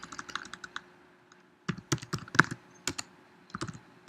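Fingers type a Docker command on a computer keyboard, a quick close run of soft key clicks, then a brief pause and another irregular burst of taps, with no talking.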